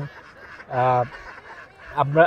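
Loud, nasal honking calls from ducks on a Khaki Campbell duck farm, a long call near the start and another burst at the end, with quieter calls in between.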